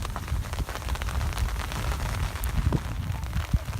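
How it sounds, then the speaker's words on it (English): Heavy rain pours down just after a hailstorm at Pachatata on Lake Titicaca in Peru, a dense close patter and drumming on surfaces that holds steady throughout with no talk. "Okay, so we're in the pouring rain."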